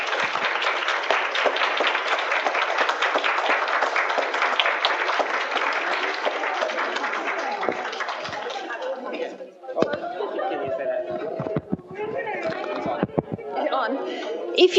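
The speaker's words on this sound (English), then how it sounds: "let's give them a round of applause" An audience applauds loudly and steadily at an English recitation contest at a Gifu university, with scattered chatter and voices continuing as the clapping thins out toward the end.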